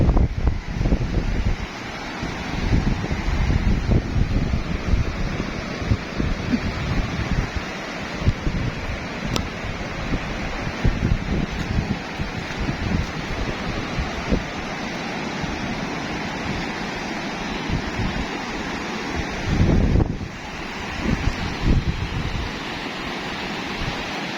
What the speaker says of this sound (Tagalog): Tingnan niyo naman po, lalaki po ng alon.